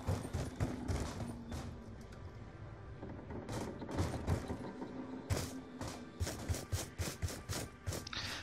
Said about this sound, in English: here's the next purchasable door.